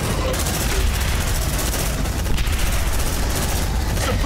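Suppressive gunfire rattles through a fight in Aliens: Dark Descent, dense bursts of automatic shots and booms packed together into a continuous loud barrage with no talk over it.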